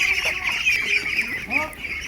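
Domestic ducks being herded into their house at dusk make nearby overlapping quacks and calls, a steady flock chatter with no talk.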